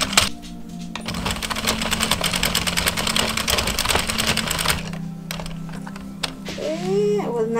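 An Addi Express Professional knitting machine is cranked with a continuous dense mechanical clatter of needles clicking in rapid rhythm, stopping briefly before resuming; up close and loud.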